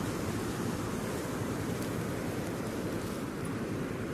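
Waves roll in at Kamala Beach, Phuket, on a rainy day, making a loud, unbroken surf roar that fills the scene with no voices.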